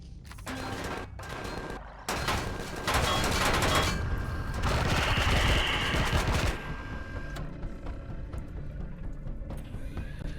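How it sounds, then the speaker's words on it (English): Rapid automatic fire from a sentry gun in the sci-fi survival game Empyrion Galactic Survival, a dense, loud burst of shots running through the middle of the stretch amid other game noise. "I see the sentry gun"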